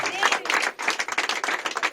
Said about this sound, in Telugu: సంతోషం వారు గట్టిగా చప్పట్లు కొడుతూ దేవుని మహిమపరుద్దాం.